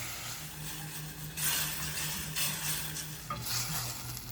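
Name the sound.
stirring butternut squash risotto with warm stock in a pan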